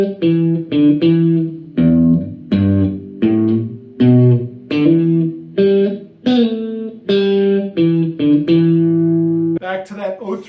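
Electric guitar plays a blues riff, a series of punchy, evenly spaced note groups and chords with short gaps, loud and close with a slightly distorted tone, no talking.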